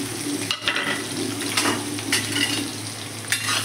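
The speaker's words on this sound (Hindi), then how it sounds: "प्याज को सुनहरा होने तक भूनना" Chopped onions frying in a pan for chhole with cardamom, a steady close sizzle broken by a few stirring scrapes and clinks of a spoon.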